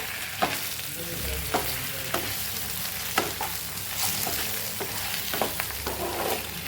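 A potato mixture seasoned with turmeric is stirred in a pan, with a spoon scraping steadily and periodic sharp clicks against the metal over a continuous light sizzle.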